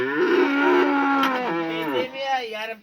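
Calves fed on bran low with a long, drawn-out moo that rises and bends in pitch, close and fairly loud, fading near the end with no talk over it.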